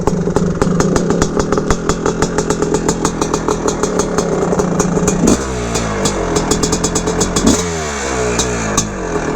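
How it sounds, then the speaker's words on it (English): An air-cooled 1981 Honda CR450R Elsinore motorcycle engine screams close by, idling with a fast, staccato exhaust beat and then revving up and down in several loud throttle sweeps. "This thing's a screamer. Air cooled 450R."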